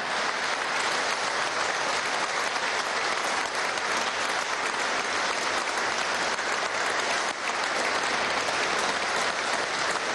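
Dense, sustained applause from a large crowd fills a ceremony at Venezuela's National Pantheon, steady and even for ten seconds with no letup.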